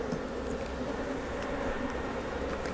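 Honey bees from a swarm hive opened for inspection fill the air with a dense, steady, close buzzing that continues without a break.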